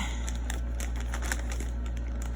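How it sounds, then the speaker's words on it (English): Chewed-up scissors snipping open a plastic bag of yarn, a run of quick crisp cuts and crinkles over a constant low hum, close and fairly quiet. "take my dog chewed up scissors and open this bag"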